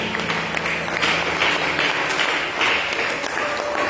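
A church congregation breaks into continuous, dense applause that holds steady throughout, with faint voices mixed in.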